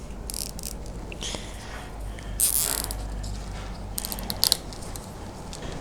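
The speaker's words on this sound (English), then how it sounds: "I'm just going to cable tie it to the wiring harness." A cable tie ratchets tight around a Kawasaki KLX300 motorcycle wiring harness in a quiet garage, giving a few short bursts of fine zipping clicks with small gaps between them.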